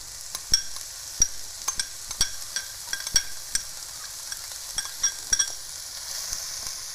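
Anaheim pepper and onions sizzle softly in olive oil in a pan, a quiet steady crackle broken by sharp pops and scrapes of stirring.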